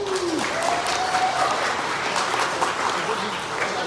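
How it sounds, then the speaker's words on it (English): A live audience at a Nerd Nite talk on trash and recycling claps steadily for a speaker, a dense, continuous round of applause holding level throughout, with faint murmurs and a whistle-like tone early on. "everyone give him a round of applause"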